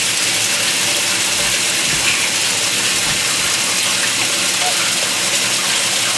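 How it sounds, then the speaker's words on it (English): A Speed Queen TC5 top-load washing machine fills with water, a loud, steady gushing rush of strong flow pouring into the drum, continuous and close. "you can see you get a good strong flow of water."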